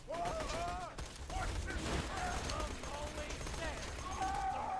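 Gunfire from the video game Borderlands 2, rapid shots and bursts mixed into a busy game soundscape, fairly faint and partly under a player talking.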